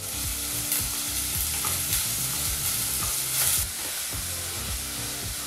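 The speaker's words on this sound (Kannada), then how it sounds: "ಬಿಸಿಯಾದಂಥ ಎಣ್ಣೆಗೆ ಈ ರೀತಿ ಚಿಕ್ಕದಾಗಿ ಕಟ್ ಮಾಡಿದಂಥ 2 ಈರುಳ್ಳಿನ ಸೇರಿಸಿ ಒಂದು 3ರಿಂದ 4 ನಿಮಿಷ ಲೋ ಫ್ಲೇಮಲ್ಲೇ ಈರುಳ್ಳಿನ ಫ್ರೈ" Two finely chopped onions frying in hot oil over a low flame, giving a steady, dense sizzle and crackle with occasional stirring scrapes, close and continuous with no talk.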